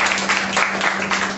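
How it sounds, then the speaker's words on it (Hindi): Brief burst of congregation applause during a church service, a dense, steady patter of clapping from many hands with no talk. "So let's give them a big hand."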